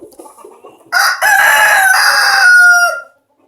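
A farm rooster crows loudly and close, one long drawn-out cock-a-doodle-doo lasting about two seconds, preceded by a few softer clucks.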